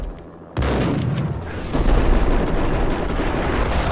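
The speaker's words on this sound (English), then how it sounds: "Now let's try to use the grenade launcher." A grenade launcher shot in the video game Max Payne sets off a loud, booming explosion that hits suddenly after a quiet moment and leaves a long rumbling tail.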